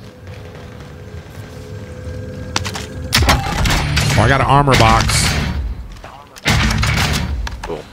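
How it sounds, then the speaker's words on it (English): Bursts of video game gunfire and heavy thuds crackle amid game noise while a person talks over the action. "Gunshots."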